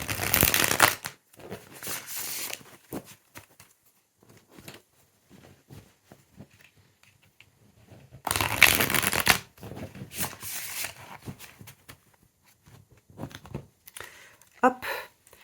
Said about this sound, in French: On va le mélanger de façon à avoir des cartes droit et inversées.